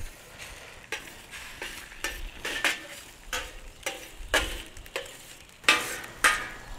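Eggs frying on a hot Weber grill griddle in teppanyaki style, with repeated scraping and stirring strokes of a spatula over a steady sizzle, close and fairly quiet, no talking.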